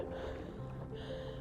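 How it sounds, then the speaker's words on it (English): Paddling a small boat across water gives a continuous close wash and low rumble of water against the hull, brief and steady, with no talk. "Just paddling."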